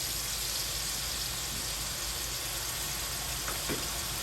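Onions and garlic with sofrito frying in a pot for arroz con pollo, a steady dense sizzle throughout with occasional faint clinks.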